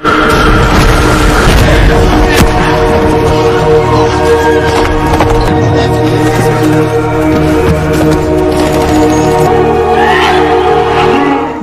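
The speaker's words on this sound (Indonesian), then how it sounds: "Banyak pasukan monyet yang tertembak dan terkena ledakan granat" Loud, dense battle din from the film Dawn of the Planet of the Apes: grenade blasts and gunfire as ape troops are shot, with booming impacts and crashing hits layered over a swelling score throughout.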